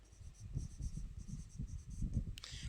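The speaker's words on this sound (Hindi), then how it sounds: "चलो मैं पहले लिखता हूं।" Chalk or marker writes on a board in a steady series of short scratchy strokes, close and moderately loud, with a sharper squeak near the end and no talking.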